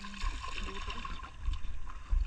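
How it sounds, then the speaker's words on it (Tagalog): A small fishing boat rocking on strong sea waves, with continuous water sloshing and low rumbling thumps against the hull, close and fairly steady, with a few heavier surges. "malakas na yung alon"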